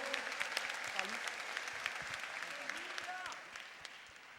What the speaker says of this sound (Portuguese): Igreja, aplauda Jesus.